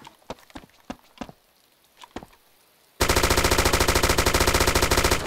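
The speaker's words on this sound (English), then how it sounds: "that's considerably higher rate of fire. Like, that puts a lot more bullets downrange" Rapid automatic machine gun fire in the military shooter ArmA 2, a dense unbroken burst of loud, evenly spaced shots filling the second half after a few scattered clicks and thuds.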